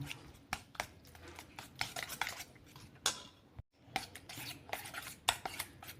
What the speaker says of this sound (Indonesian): Ini kita aduk sampai rata.